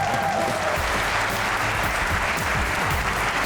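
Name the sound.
audience applause welcoming singers Bilal Maqsood and Zeeshan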